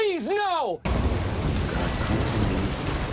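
Heavy rain and rolling thunder fill the post-apocalyptic outdoors of the video game Death Stranding. A brief tonal game sound breaks off sharply, and then a loud, continuous downpour with low rumbling takes over.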